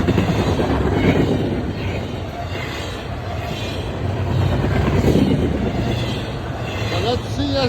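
CSX freight train heading east, a loud continuous rumble of rolling cars with occasional high wheel squeals, steady throughout at close range.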